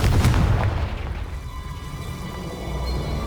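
In the Hogwarts Legacy video game, a spell explodes with a heavy, booming blast. The burst hits loud at the start and fades into a lingering rumble and hiss.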